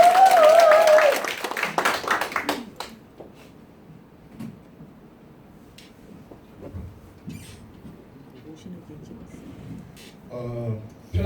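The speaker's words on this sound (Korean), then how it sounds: "다시 한번 힘찬 박수로 모시겠습니다" Audience at a Korean lecture or training session giving applause, a loud burst of clapping at the start that fades out within a few seconds, followed by quiet room noise and scattered talking.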